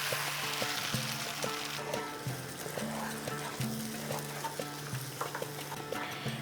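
Ground spice paste going into a pan of fried ginger for a Bengali vegetarian kebab curry, giving a steady close sizzle with scraping stir strokes and faint background music.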